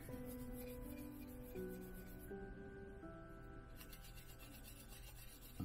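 A dry, steady rasping scrape of a small sanding stick rubbed back and forth on a hard part of a Star Trek starship scale model, close up, continuous with no talking.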